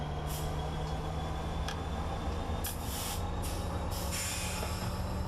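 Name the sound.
train moving in video game Train Simulator 2015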